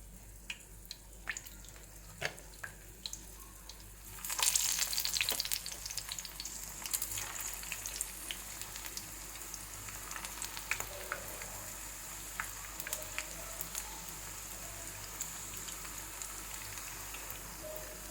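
Shaped onion cutlets drop into hot oil and set off a steady, close sizzle that jumps up partway through and then stays even and crackling to the end, with no talking.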